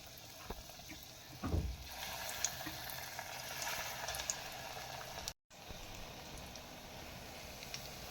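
Shaped mung dal fritters with onion and green chili sizzle gently in hot oil, a quiet, steady bubbling hiss with a brief louder burst early on.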